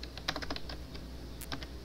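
Typing on a computer keyboard at a desk while working in a command prompt terminal: a quick, uneven run of close, light key clicks over a steady low hum.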